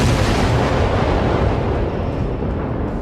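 Naval ship guns fire a salvo in the World of Warships video game, a loud, dense barrage of overlapping booms and heavy rumble that fills the whole stretch with no voices.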